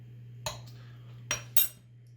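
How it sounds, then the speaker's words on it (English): A utensil stirs an oil and vinegar dressing in a bowl, with three brief, close clinks against the dish over a low steady hum. "Give that a stir."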